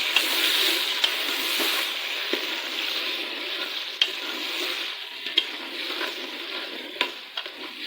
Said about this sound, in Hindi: इसी के अंदर मैं डालने लगी हूँ चिकन, जो कि मैंने धो के रखा हुआ है, ताकि ये भी इनके साथ थोड़ा सा